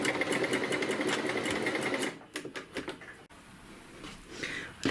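Sewing machine stitching a folded seam along the added allowance, a steady run of motor and needle chatter for about two seconds, then broken bursts and soft handling noises.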